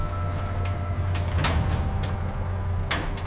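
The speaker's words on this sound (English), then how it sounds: "The vault door, 12 inches of steel," A heavy steel vault door, twelve inches thick, at a currency printing facility shifts with a low rumble and several sliding, scraping metallic bursts over a constant mechanical hum.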